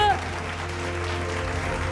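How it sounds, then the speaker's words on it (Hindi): An awards-ceremony audience claps continuously under a sustained musical drone while a voice speaks in Hindi over the applause. "एक बार फिर से जोरदार तालियों के साथ सम्मानित कीजिए आप"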